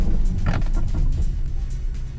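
A loud engine drone from a BYD Tang DM-i hybrid SUV's generator rises under acceleration, steady low rumble with a whirring whine on top, close and continuous for a couple of seconds.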